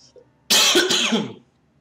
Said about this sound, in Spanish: ya empecé con la tos